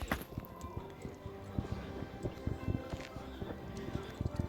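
Horse hooves clip-clop through a winter village in a video game, a steady run of close, crisp knocks over a low ambient bed.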